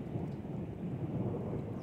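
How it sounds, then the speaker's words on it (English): Thunder rumbles during a monsoon rainstorm along the Snake River near Marsing, Idaho: a continuous, low, rolling roar with steady rain noise, fairly loud and with no speech. "We got a lot of thunder, lightning."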